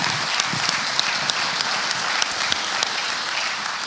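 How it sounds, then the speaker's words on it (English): An audience gives Kathy a round of applause, a sustained, even roar of many clapping hands with crisp individual claps standing out now and then, holding steady for several seconds with no one speaking over it. "you can give her a round of applause"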